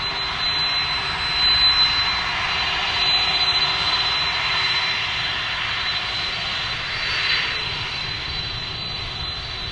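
A Boeing 767 taxiing at DFW airport gives off a steady, continuous jet engine whine with a high tonal hum over broad roar, holding fairly constant and moderately loud throughout.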